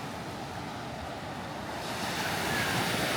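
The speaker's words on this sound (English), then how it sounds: "They even have a little surf out there, breaking on that sandbar." Surf breaks on a sandbar off a small secluded beach on St. Thomas in the U.S. Virgin Islands. A steady, rushing wash of waves and wind swells slightly louder toward the end, with no voices.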